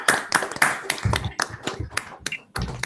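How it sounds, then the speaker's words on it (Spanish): Scattered applause from course participants thanking the organizers at the close of a quantum information course session, with claps overlapping speech; a few loud bursts followed by sparser, uneven claps. "aplauso para la gente de organización"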